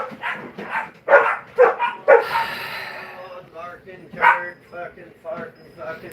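Several dogs bark and yip in short, loud bursts with whimpering between them, scattered across the moment and mixed with nearby human speech.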